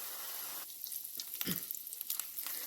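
A ground paste of onion, ginger, garlic and chilli fries in hot oil, a steady close hiss and crackle with scattered sharp pops and a brief stirring scrape in the middle.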